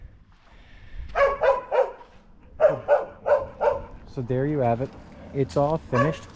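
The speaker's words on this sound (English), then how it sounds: "Sorry about the dogs barking." Dogs bark in quick repeated bursts, some yelping and whining, mixed with a person speaking briefly between the barks.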